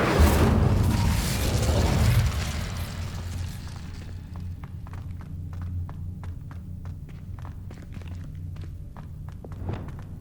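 An Incendio fire spell is cast in Hogwarts Legacy, a loud whooshing burst that fades over two seconds, followed by soft rhythmic footsteps and faint ambience.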